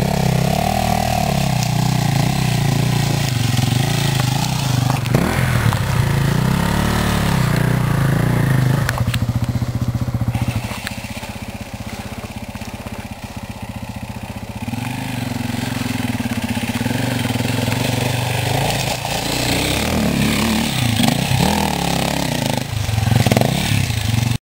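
A trail motorcycle engine revs and labors on a Slovakian trail, loud and close, with rising and falling throttle bursts, a quieter dip midway, then renewed revving with clattering and scraping, and no talk.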